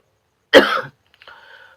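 A single sharp, harsh cough bursts out close by, followed after a short pause by a softer, wheezy throat sound.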